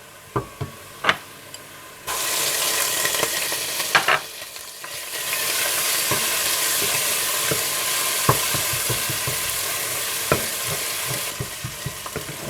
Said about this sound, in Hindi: आप इसमें अदरक लहसुन डालकर थोड़ा भून लें